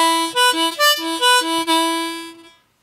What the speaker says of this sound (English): If you do the same phrase, but with tongue switching